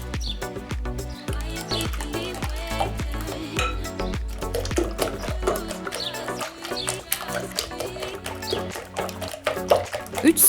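Water is poured into whisked eggs for homemade noodle dough, a bright liquid trickle and splashing close by, with light clinks and stirring noises mixed in and some background sound.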